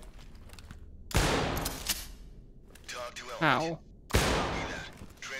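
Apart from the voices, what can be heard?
gunfire in the video game Ready or Not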